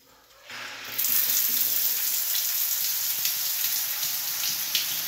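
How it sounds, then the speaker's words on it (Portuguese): A bathroom shower switched on, its water hissing steadily after a brief quiet start, a close, continuous spray of running water with no talk. "eu vou ligar o chuveiro e a primeira água é fria"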